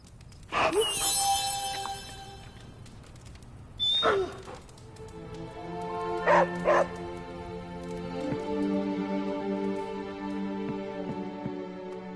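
Dog Charlie in Marvel's Midnight Suns gives a few short yips and whimpers, with a brief cluster near the start and another mid-clip, over a steady background game music bed.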